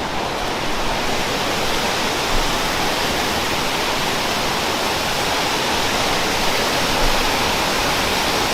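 The Yamuna river rushes at Yamunotri, a loud, steady, dense roar of fast mountain water filling the whole scene without a break.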